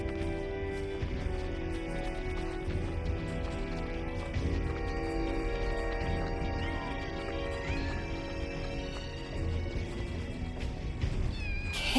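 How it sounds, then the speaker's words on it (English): Several kittens in Final Fantasy 7 Rebirth meow continuously, overlapping high mews and plaintive cries sustained throughout over a dense game soundscape with ambient music. "Kittens?"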